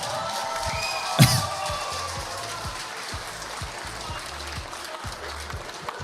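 Applause for a guest at a wedding, steady clapping that spikes in one loud burst early on, then continues as a dense patter mixed with crowd noise.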